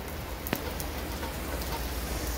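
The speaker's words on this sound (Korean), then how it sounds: "비가 오는 날은 방송을 좀 접어야 되는 거잖아요." Steady rain falling on an outdoor walk before dawn, a dense even hiss with one sharp drop tap near the start, close and continuous with no voices.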